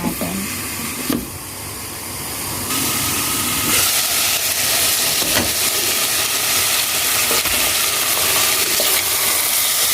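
Mutton sautés in a covered pan, a loud, steady sizzle and hiss that swells after the first second and holds on continuously, close by with no talking.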